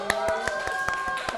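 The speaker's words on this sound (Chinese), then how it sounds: "那下面的话让我们掌声欢迎我们今天的心动嘉宾管乐" Applause for a guest arriving on a brand livestream, a short run of sharp, evenly spaced claps close to the mic, with a faint steady tone behind them.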